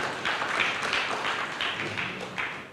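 A church congregation at a sermon gives lively applause to God, a steady wash of many hands clapping at moderate volume with no talking over it.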